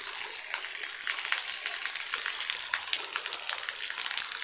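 Rainwater rushes downhill in a steady, broad hiss and gush during a thunderstorm, continuous and fairly close, with no talk over it.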